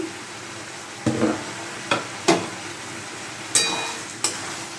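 Banana flower curry stirred in a sizzling pan, a steady frying hiss broken by several sharp scrapes and knocks of the spoon against the pan at irregular intervals, close and alone.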